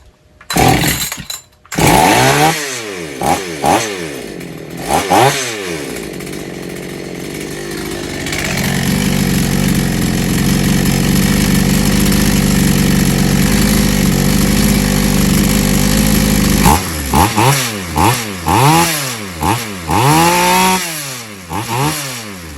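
A chainsaw sputters through a few short bursts, settles into a loud, steady running engine once the choke is opened, then breaks into sharp revving blips toward the end.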